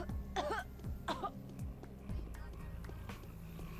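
A character in Pathologic coughs in short, rough bursts at a low level, mixed with muffled voice sounds and faint thudding steps in the background.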